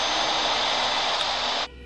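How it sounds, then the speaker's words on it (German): Loud, steady hissing static from a radio damaged in a crash, broadband and constant for nearly two seconds before cutting off abruptly to a low residual hum. "die Antwort war nur statisches Rauschen"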